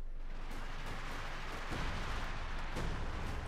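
Artillery airburst shells explode in a Company of Heroes 2 battle as several faint, muffled booms spread out over a continuous low rumble of distant battlefield noise.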